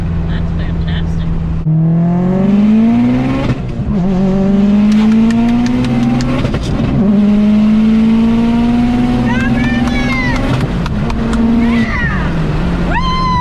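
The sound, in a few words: 800HP Subaru STi accelerating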